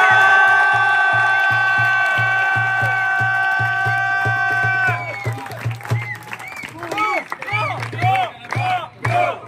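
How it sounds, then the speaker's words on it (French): A crowd at a festival tournament awards ceremony claps in a rapid rhythmic beat under a sustained tone, then bursts into loud, scattered cheering and shouting, close and lively, with voices mixed in. "un tonnerre d'applaudissements"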